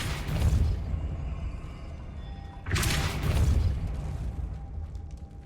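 A Depulso force spell cast in Hogwarts Legacy, two booming, bursting blasts a few seconds apart, each swelling sharply then fading into a lingering rumble, loud and close with no talking.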